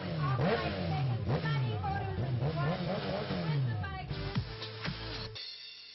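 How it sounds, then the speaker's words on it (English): A lifted Jeep Wrangler drives along, its engine rumbling and revving steadily beneath continuous talking, and the vehicle noise drops away near the end. "The attention that we are getting from being on top of this Jeep Wrangler, you guys. How fast is this car though?"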